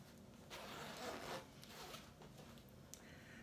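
The zipper of a green military vest is zipped. It gives a faint, close rasp that runs a couple of seconds, with a few soft rubbing sounds after it.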